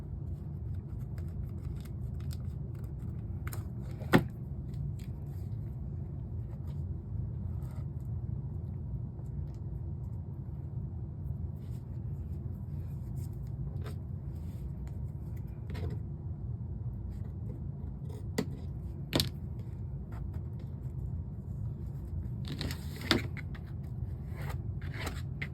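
Scissors cut through paper while bottoms are fitted onto budget craft-room storage pieces, giving a few sparse, quiet snips over a steady low background hum, with no talking.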